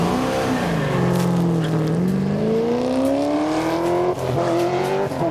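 A drag racing car at Heathcote Park test and tune day accelerates hard through the gears, its loud engine tone climbing steadily with a brief drop at a shift, heard fairly close and continuous.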